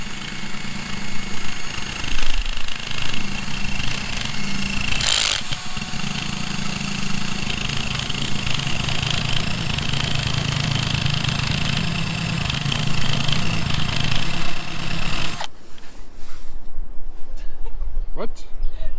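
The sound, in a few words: rubber eraser wheel removing boat decals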